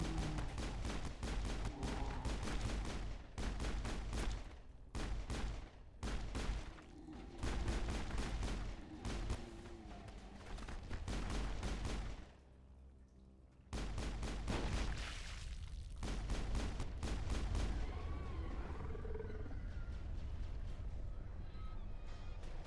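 Rapid bursts of gunfire from the video game Mass Effect, set on Feros, crack and rattle in dense, loud volleys, pausing briefly before another sustained barrage; a voice speaks faintly beneath the shooting.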